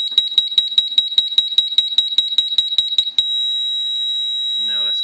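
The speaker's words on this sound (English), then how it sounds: "After 10 seconds, you'll get a continuous beep." An electronic device gives a string of about a dozen rapid, sharp, high beeps, then switches to one loud, steady, continuous tone held close by.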